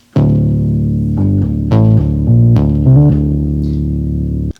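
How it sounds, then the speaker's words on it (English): Mini Moog Model D bass synth plugin by UAD, loud, thick sustained bass notes changing pitch in a short phrase with sharp note attacks, then a long held tone that cuts off. "so I picked the Mini Moog Model D from UAD"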